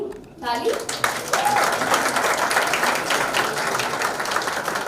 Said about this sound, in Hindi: सॉन्ग अनवील करने से पहले ताली.